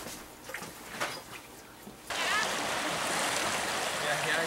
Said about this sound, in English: It works! We got water!